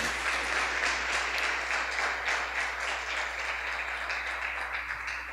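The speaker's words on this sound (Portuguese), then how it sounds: "Vamos aplaudir o Senhor" A church congregation applauds in praise during a Portuguese-language service, a steady, dense wash of clapping that holds evenly throughout without voices standing out.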